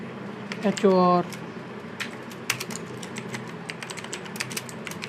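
Light, scattered keystrokes on a computer keyboard, soft and fairly close, clicking irregularly after a brief spoken word.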